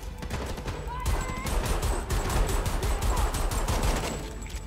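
Rapid bursts of gunfire from a first-person shooter game, Homefront: The Revolution, crackle in quick repeated shots over several seconds at moderate level, with scattered game effects in the background.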